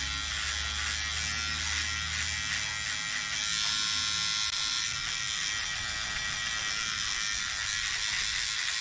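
An electric clipper buzzes steadily while trimming a beard, a close, constant high whine with slight changes in tone as it moves through the hair, no talking.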